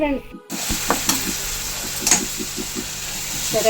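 Raw mango rice mixture (pulihora) cooking in oil, a bright close sizzle with a quick rhythmic series of stirring scrapes, a brief silence at the start before the frying noise.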